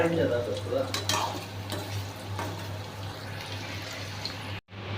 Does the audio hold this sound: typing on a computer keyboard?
no